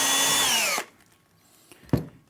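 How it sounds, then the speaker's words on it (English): A power drill whirs steadily, its pitch sliding down as it bores through a kitchen corner cabinet unit, then stops abruptly; a couple of faint clicks and a sharper knock follow in the quiet. "drill a quick hole,"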